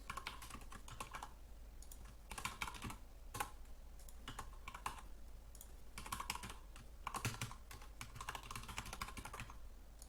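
Test taker details are typed on a computer keyboard in quick irregular bursts of close, crisp key clicks separated by short pauses.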